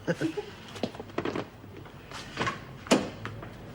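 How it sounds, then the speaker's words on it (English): A door is opened indoors in a scripted prison drama scene, giving a few short clunks and a sharper latch knock near the end, with quiet movement and rustling around it and no speech. "Well, I've got to open the door to get out, don't I?"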